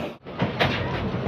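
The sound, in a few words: train arriving at railway station platform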